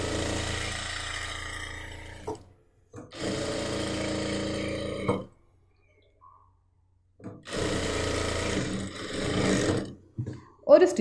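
Sewing machine stitching down a folded half-inch fabric hem on a churidar made from nighty cloth, running in three loud steady bursts with quiet pauses between them.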